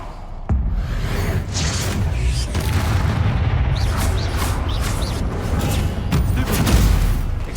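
Spell explosions from the Confringo curse crash out during a video-game duel, a dense, continuous barrage of booms and whooshing blasts layered over heavy low rumble, loud and close throughout with no pauses.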